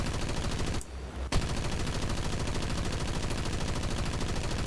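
The TB-3M bomber's aircraft machine guns in War Thunder fire in a steady, rapid rattling stream, broken by a brief pause before the chatter resumes at full loudness.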